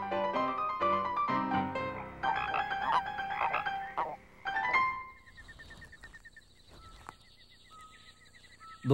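Frogs croak in loud, rapid overlapping calls during a rain shower, then quieter chirping croaks continue with some faint higher trills in the background.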